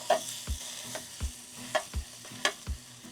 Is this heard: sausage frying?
yes